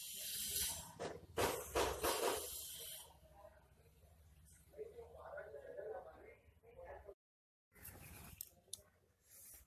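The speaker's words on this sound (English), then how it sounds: "And boil the solution." Ferrous ammonium sulphate solution boils in an evaporating dish during Mohr's salt preparation, producing a steady low bubbling hiss with sharper sizzling bursts early on, broken by a brief silent gap.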